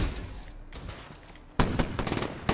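Rapid rifle fire from the Shiva in the shooter Black Ops 3, a few muffled shots giving way after a brief lull to a louder, denser burst of gunfire toward the end.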